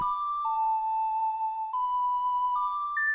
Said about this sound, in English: So Zelda's Lullaby unlocks this door.